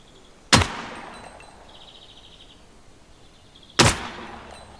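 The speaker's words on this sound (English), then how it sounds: "So we are firing semi-automatic at the moment." Two single semi-automatic gunshots in Gunsmith Simulator, about three seconds apart. Each is a sharp, loud crack with a brief tail over a quiet background.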